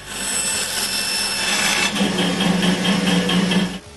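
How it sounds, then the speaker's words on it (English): A bandsaw cuts an intarsia pattern out of a wooden board, a steady close rasping whine of blade through wood that deepens midway as the cut continues, then stops abruptly near the end. "Then, I cut the pattern on the bandsaw."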